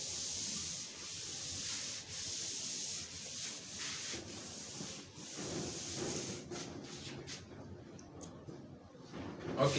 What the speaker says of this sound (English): Permit me to rub it out because I'm struggling with space.